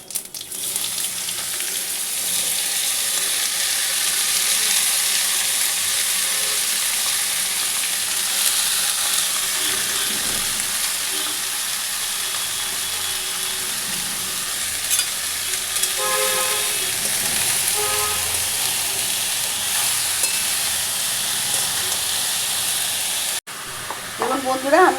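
Pieces of bottle gourd hiss and crackle in hot oil tempered with cumin, a steady loud sizzle running nearly unbroken, with a few light stirring scrapes partway through.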